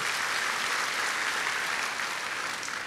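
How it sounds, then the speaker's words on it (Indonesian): A church congregation at a worship service claps loudly and continuously, a dense, even wall of applause filling the room without pause. "Beri tepuk tangan yang meriah buat Tuhan."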